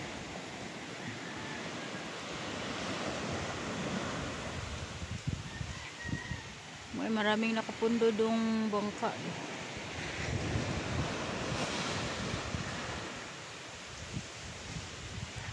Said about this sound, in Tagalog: Lakas ng alon guys. Lakas kasi ng hangin.